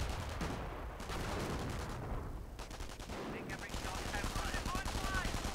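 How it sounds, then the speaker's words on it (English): Overwatch Artillery shells rain down in a Company of Heroes multiplayer battle, a dense stream of booming impacts and gunfire rattling continuously in the game's mix. "but the Overwatch Artillery is still coming in"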